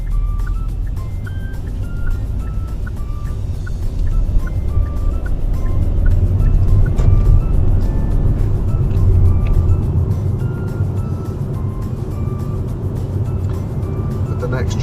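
A car in second gear on a driving test route along the A419 gives a steady, close engine and road rumble throughout, with someone talking over it.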